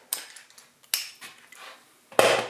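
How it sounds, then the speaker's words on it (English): A speed wrench works bolts loose on a John Deere 755, giving a few sharp metallic clanks and ratcheting rattles, close by and alone, with a louder clank at the end. "now we'll do our speed wrench"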